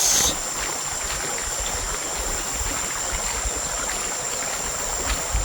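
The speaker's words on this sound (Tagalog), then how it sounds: "Silipin natin yung falls." A waterfall at Dinadyawan, Aurora, produces a steady, even rush of falling water that fills the space without pause, with a thin high tone running above it and no talking.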